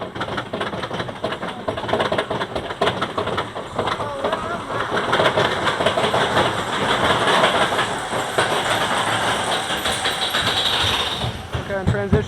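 Superman roller coaster at Six Flags Magic Mountain rumbles and clatters continuously along its track, a loud rolling roar with rattling clicks and wind, while people talk and shout over it.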